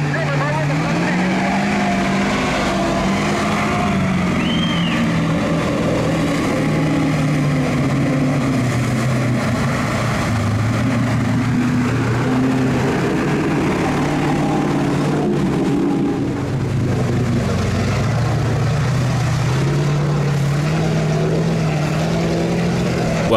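A GAZ-66 Soviet military truck engine rumbles steadily and loudly throughout, with a low droning tone that shifts pitch slightly as it labors.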